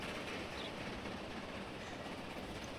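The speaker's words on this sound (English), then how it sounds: "there was a train on the other line" A train rolls past on a nearby line in the video game Transport Fever 2: a steady, loud rumble with faint clickety-clack running through the whole stretch, no voices over it.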